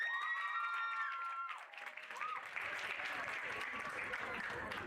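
At a school speech and prize giving day, an audience claps for a prize winner, a steady wash of many hands heard at a distance and fairly faint, while a voice speaks over the start of it.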